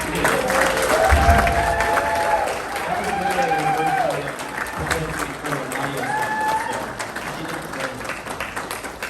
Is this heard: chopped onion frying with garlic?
no